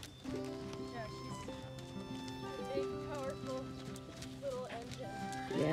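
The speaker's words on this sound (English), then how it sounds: "She's got a powerful canter." An off-the-track Thoroughbred mare canters on the ground during a schooling ride, her rhythmic hoofbeats mixed with other busy sounds.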